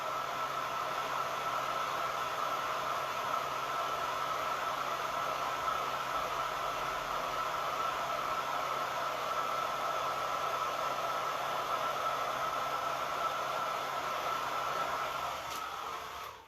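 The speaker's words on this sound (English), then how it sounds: "sit around and watch somebody with a blow dryer" A blow dryer runs steadily throughout, a constant loud whooshing hiss used to heat hot glue along the rim of a giant jingle bell ornament, cutting off at the very end.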